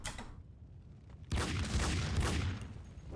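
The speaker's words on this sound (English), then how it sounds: "I'm going to empty my gun so I can do a shoot dodge" Pistol rounds emptied in Max Payne 2, a burst of rapid gunfire with a pause, then a dense, loud volley of overlapping shots and booms.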